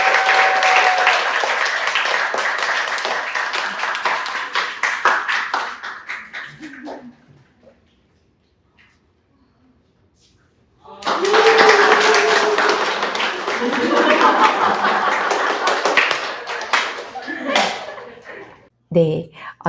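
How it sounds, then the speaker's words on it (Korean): An audience at a youth baseball team gathering applauds a player, with two sustained bursts of dense clapping separated by a quiet gap, a voice briefly audible near the end. "홍해찬 군에게 박수 한번"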